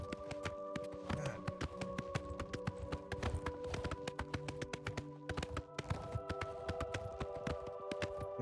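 Horse hooves galloping in the video game Oblivion Remastered, a steady rapid run of sharp clip-clop beats carrying on throughout, close and fairly loud over a sustained tonal music and ambience bed.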